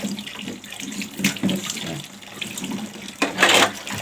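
Kitchen tap running into a sink while dishes are washed, with a steady splashing water stream and occasional louder bursts and clatter as items pass under the flow.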